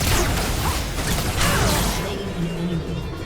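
A dense, bright mechanical whooshing and ratcheting effect from a League of Legends character's passive ability (Project Jinx skin) plays continuously, loud and busy, thinning out toward the end.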